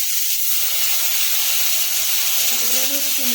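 Water poured onto hot ground coriander and Kashmiri chilli powder in a pan bursts into a loud, continuous close sizzle and hiss, with faint voice-like tones appearing toward the end.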